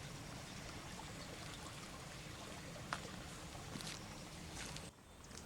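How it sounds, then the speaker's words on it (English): A brook flows outdoors on a quiet winter morning walk, giving a steady soft rushing and trickling wash, faint and continuous, with a few small knocks and no talking. "You can hear the brook stream rolling."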